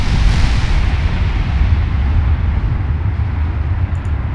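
Massive 20-inch naval guns fire in the warship game Ultimate Admiral Dreadnoughts, producing a dense, continuous heavy rumble of booming gunfire that stays loud throughout, with no talking.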